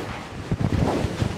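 Strong gusty wind buffets an outdoor microphone on a rainy, stormy day, a dense roaring rush with surging bursts and no speech.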